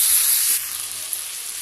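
Onion, tomato and cashew sautéing in a pan for a dhaba-style chicken capsicum gravy, giving a bright, steady sizzle that is loud for about half a second and then drops to a softer, continuous frying hiss.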